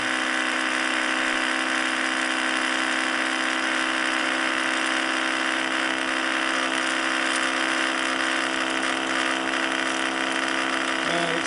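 A small Orbo / Ben Thomas magnet motor with one little coil and four magnets spins near 4000 RPM, giving a constant, dense high whine and buzz that stays loud and unbroken throughout.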